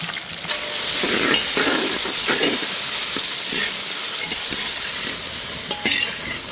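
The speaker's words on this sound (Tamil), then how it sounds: "ஒரு பக்கம் வெண்டைக்காய் வதக்குறோம், ஒரு பக்கம் வெங்காயம் வதக்குறோம்." Okra and onions sauté in a hot pan, a loud continuous sizzle and hiss with occasional stirring scrapes heard close up.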